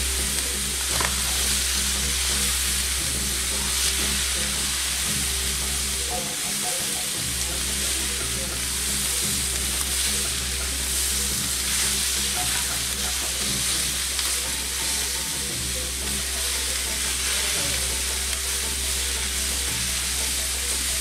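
Kielbasa, peppers and onion frying in a pan, a steady loud sizzle with soft scraping stirs and a low background hum throughout.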